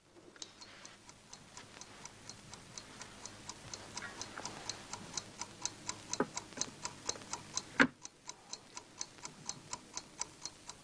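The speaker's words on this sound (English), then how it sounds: "Inside the gollywog's a time bomb." A time bomb from an old film ticks steadily and crisply, a regular run of sharp clicks going on for the whole stretch, with a brief louder knock near the end and no voices.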